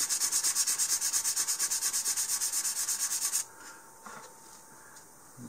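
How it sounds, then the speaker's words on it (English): A model rocket body is rubbed with fine 500-grit sandpaper in fast, even back-and-forth strokes that sound close and steady, then stop abruptly, leaving faint scattered handling noises. "I'm going to take some very fine sandpaper. This is 500 grit."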